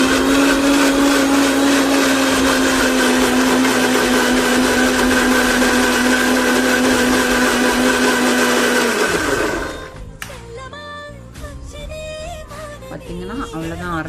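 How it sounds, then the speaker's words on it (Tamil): A mixer grinder whirs loudly, grinding a hair pack mixture with a steady high motor whine, then winds down and stops, leaving quieter clicks and handling sounds. "அதை நல்லா ஃபைனாக அரைச்சிக்கலாம்."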